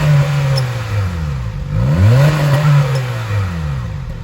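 A 2011 hybrid car's exhaust revs up and down in loud, close sweeps, with faint crackles where it pops a little.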